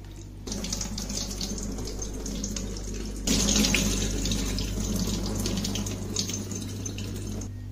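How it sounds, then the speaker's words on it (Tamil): Soaked moong dal being rinsed under a running kitchen tap, a steady close splashing stream into a sink that grows louder and fuller partway through, with no talking. "நல்லா மூணு நாலு தடவை வாஷ் பண்ணிடுங்க."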